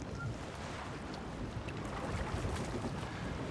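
Aboard a merchant sailing ship at sea in a TV drama scene, a steady wash of wind and water rushes evenly throughout, with no voices.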